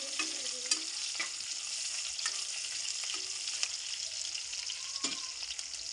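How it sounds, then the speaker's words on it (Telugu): Green chillies crackle and sizzle steadily in hot oil in a pan, with occasional scrapes of a spoon stirring through them, close and alone without voices. "పచ్చిమిర్చి వేసుకొని ఇప్పుడు మనం మంచిగా కలుపుకోవాలండి"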